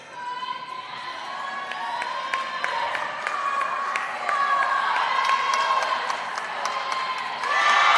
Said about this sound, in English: drawing a huge round of applause there